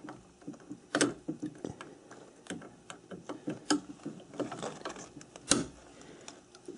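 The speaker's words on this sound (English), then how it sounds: "So loosen this one, tighten the opposite jaw, loosen this back jaw, tighten this front one." Chuck jaws being loosened and tightened in turn, giving a run of small metallic ticks and ratcheting clicks with a few sharper clacks, close and fairly quiet, with no talking.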